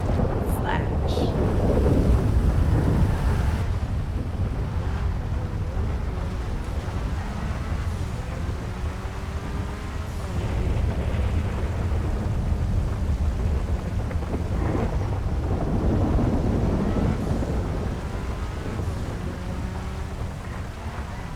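A thunderstorm rolls through the video game IgniteRP, with steady heavy rain, deep rumbling thunder and crackling lightning strikes swelling and fading throughout, loud and close.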